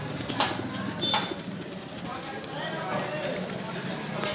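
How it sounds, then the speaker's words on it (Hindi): Pigeons cooing in a crowded hobby flock, soft repeated coos over a noisy outdoor background, with people talking throughout. "कबूतर बहुत है।"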